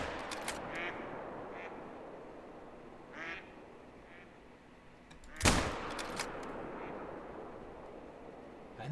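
A single loud rifle shot cracks out mid-scene during a deer hunt in theHunter: Call of the Wild, sharp and close, set against a steady outdoor ambience with faint bird calls before and after.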